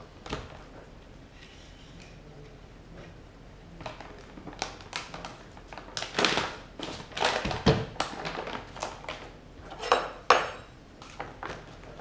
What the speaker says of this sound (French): vous venez bien mélanger votre eau et votre bicarbonate